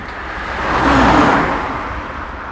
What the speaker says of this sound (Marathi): पुन्हा गाडी त्या म्हातारीला पास करून वेगाने पुढे निघून गेली.